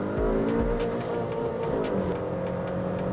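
A manual 2023 Honda Elevate accelerates hard past 100 km/h, its engine droning steadily and loud from inside the cabin, with rising harmonics and no talk over it.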